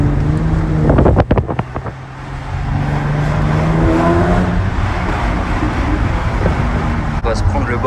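A Jaguar F-Type Coupe S with a supercharged 3.0 V6 making 380 hp accelerates along a seaside road, its engine note rising beneath heavy wind rush, with a few sharp clicks near the start.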